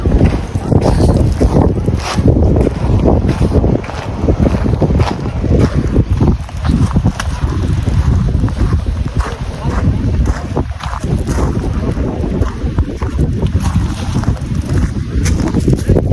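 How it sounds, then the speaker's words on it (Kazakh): Strong wind of about 30 km/h at Lake Alakol buffets the microphone continuously with loud, gusty roaring and rumbling, mixed with lake water sloshing along the shore. "Жел деген страшно болып тұр екен."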